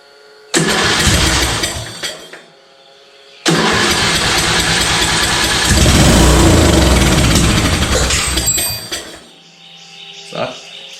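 A Yard Machine small engine, just cleaned after a likely fuel problem, cranks and sputters briefly, then catches and runs loud and rough for several seconds before cutting out; a voice speaks near the end.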